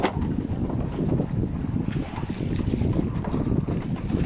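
A sailboat running under sail off Leucate in October as the headsail is set, with steady wind buffeting the microphone and water rushing along the hull, loud and continuous with no talking.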